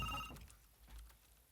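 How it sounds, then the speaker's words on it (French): An old horn telephone sits on a desk and rings with a bright, brief metallic bell burst at the start, then fades into faint low rumble. "Le téléphone sonne."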